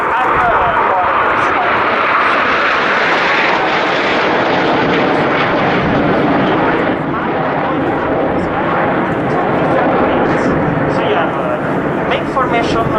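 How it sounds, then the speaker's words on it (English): Frecce Tricolori Italian Air Force jets roar overhead in formation at an airshow, a loud, continuous wash of jet noise throughout, with a commentator speaking over it. "All the aircraft of the Frecce Tricolori, they pull up"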